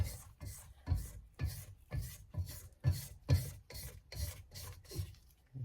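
A spatula scrapes around the sides of a mixing bowl of gingerbread cake batter, giving repeated rhythmic rasping strokes, close and clear with no talking.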